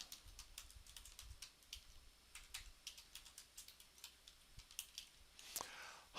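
Quick, faint keystrokes clatter on a computer keyboard as text is typed, a steady patter of close clicks with a few heavier taps.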